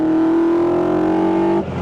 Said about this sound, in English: Oh, listen to that engine roar.